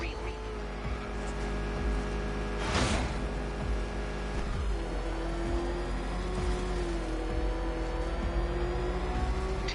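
Batmobile engine in Batman Arkham Knight, a steady powerful roar that revs and whirs throughout with a surge partway through, while voices talk over the engine.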